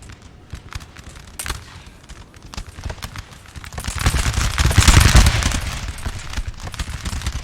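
Musket volleys in a Napoleon: Total War multiplayer battle make a steady, crackling rattle of massed gunfire that swells louder and denser midway through, with no voices.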